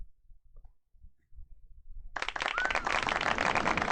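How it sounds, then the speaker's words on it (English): Brief burst of applause and clapping breaks out abruptly about halfway through, loud and dense, following a quiet stretch during a Topps Chrome baseball card box break. "Let's get a round of applause for not sticking together, George."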